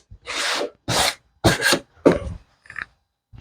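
Several short hand-sanding strokes rasp across the rough edges of wooden stretcher bars, close by, each lasting under half a second with brief pauses between.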